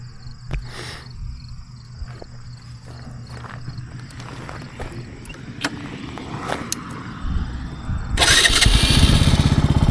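A Benelli TNT135 motorcycle sits quietly with faint clicks and clunks, then its electric starter cranks and the small engine catches near the end, settling into a steady buzzing idle; close and alone without speech.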